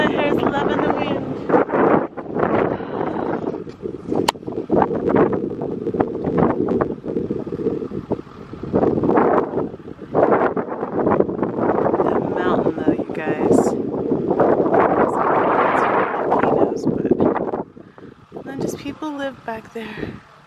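Wind on Iceland's south coast buffets a microphone in heavy, uneven gusts under continuous talk by a woman, the rumble easing briefly near the end.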